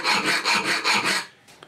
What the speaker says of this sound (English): you can often tell just by the noise it makes when you're trying to file it like that